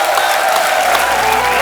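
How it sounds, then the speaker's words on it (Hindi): Studio audience on a comedy talk show applauding and cheering for guests, a loud, steady wash of clapping with a few whoops, mixed with bright music throughout. "तो एक बार जोरदार तालियां हो जाएं हमारे मेहमानों के लिए"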